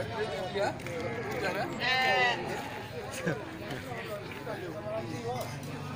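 A ram bleats amid the din of a busy livestock market, its cry rising clearly for a moment near the middle over steady crowd chatter and other animal noise.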